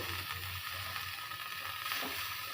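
Vegetables frying in a large oiled pan over low heat, a steady soft sizzle with faint stirring scrapes throughout, close and alone without speech.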